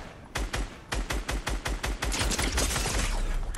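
Rapid gunfire from the video game Fortnite, a string of sharp close shots in quick bursts that build into a dense, continuous volley with no talk over it.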